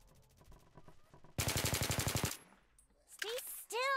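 Video game gunfire: a quick automatic burst of rapid shots in a steady rhythm, loud and close, preceded by softer clicking and followed by sharper game effects and whooshing sounds.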